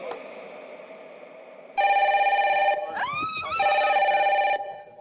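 A red telephone in a reality-show house rings loudly with a steady electronic tone, pausing once and then resuming close by, with a brief burst of other warbling sounds in the middle.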